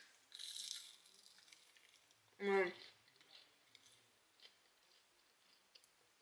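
Fast-food onion rings served with Big Mac sauce, slightly softened from sitting, give one short burst of crunchy chewing up close. A brief rustle comes first, then faint small clicks follow in an otherwise quiet space.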